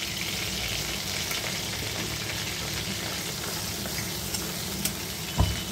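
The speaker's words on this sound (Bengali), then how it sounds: "কালো জিরে আর শুকনো লঙ্কাকে হালকা ভেজে নেব" Black cumin and dried chillies frying in hot oil in a home kitchen, a steady close sizzle and crackle running throughout, with a couple of small taps and a brief utensil knock near the end.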